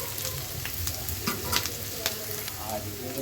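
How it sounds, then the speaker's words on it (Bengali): Chopped onions and chilies fry in a hot pan with a steady, close sizzle, broken by a few sharper clinks and scrapes as the mixture is stirred. "পেঁয়াজ আর মরিচ কুটোগুলো একটু ভেজে নিব"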